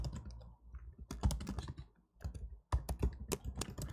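Computer keyboard typing during a coding session, close and quiet, in quick bursts of clicking keystrokes separated by short pauses.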